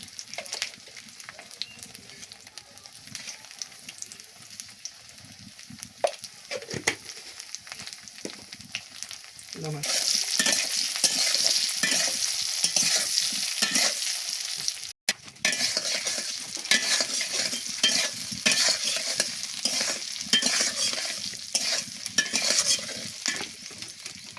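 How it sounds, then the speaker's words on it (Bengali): Potatoes seasoned with turmeric and salt fry in a pan for a country chicken curry, stirred with intermittent scrapes and clatter; the sizzle swells much louder partway through and stays strong and steady to the end. "বন্ধুরা আলুগুলো একটু ভালো করে ভেজে ভেজে নিব যাতে খেতে সুন্দর হয়"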